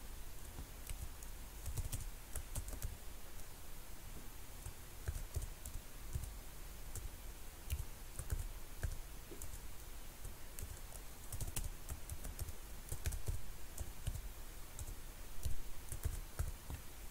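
A password typed on a computer keyboard during an Ubuntu 20.04 setup, quiet, close clicks of keys pressed in irregular bursts and runs throughout, with no voices.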